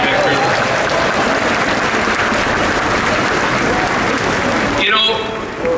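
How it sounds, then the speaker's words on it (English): An outdoor audience at a Vancouver public unveiling ceremony gives sustained applause, a dense steady roar of clapping for nearly five seconds before it cuts off abruptly, with voices mixed in. "let's give a round of applause to the staff of the City of Vancouver"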